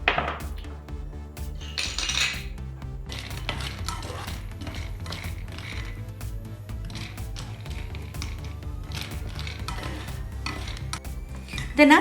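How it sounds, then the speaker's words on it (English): Nuts roasting in a dry pan for royal falooda, with steady stirring and scraping of a utensil against the pan and faint sizzling, continuous and close throughout. "let me start roasting the nuts"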